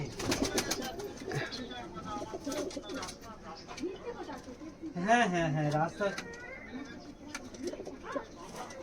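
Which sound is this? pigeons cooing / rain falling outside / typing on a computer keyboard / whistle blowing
pigeons cooing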